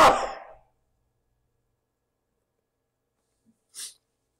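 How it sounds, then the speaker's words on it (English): A single sharp, loud sneeze bursts out at the start and fades quickly, followed by near silence and a faint brief breath a few seconds later. "Oh, I've got to sneeze, sorry."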